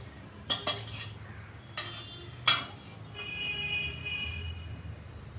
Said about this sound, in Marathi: तर आपण पूर्ण आता साखर टाकून घेऊया.